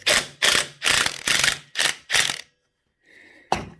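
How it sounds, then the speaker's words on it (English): A ratchet wrench clicks in six loud, evenly spaced bursts while loosening a nut on a Suzuki DR200 motorcycle, then pauses, gives a faint creak, and ends with one more sharp click. "Now the easy bit, getting the nut off."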